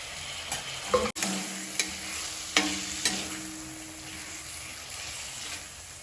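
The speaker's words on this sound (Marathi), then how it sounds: "आता आपला मसाला फ्राय झाला आता कोलंबी टाकू" Masala frying in a pan for a prawn and bamboo shoot curry, with a low continuous sizzle and several sharp spatula taps and scrapes in the first few seconds.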